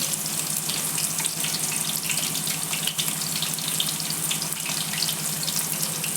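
Garlic sizzles in hot oil in a pan while cooking a roti fry, a steady close hiss with no voices.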